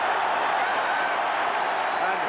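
Welsh rugby crowd at the 1999 Rugby World Cup roaring after a Wales try, a dense continuous cheer with applause, with commentary over it.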